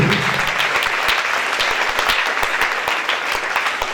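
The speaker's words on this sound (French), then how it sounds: "Put your hands together beautifully for this God." A church congregation breaks into loud, sustained applause, dense rapid clapping from many hands close by, with a few voices faintly mixed in.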